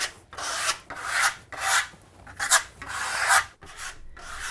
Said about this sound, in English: scraping it off at a high angle